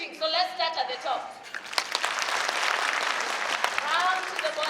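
Audience applause at a graduation ceremony, dense clapping that swells in after a brief stretch of voices and continues steadily at moderate loudness, with some talk mixed in near the start.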